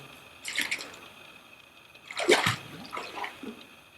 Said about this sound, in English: is water, rainwater actually. It has washed down. It goes into mud.